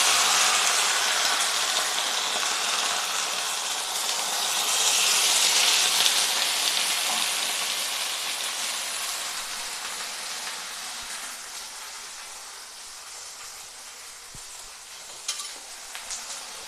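Rinse water from a spice bowl poured into shrimp paste frying in oil, producing a loud hissing sizzle that swells and slowly fades, with a brief stirring clink near the end; no speech.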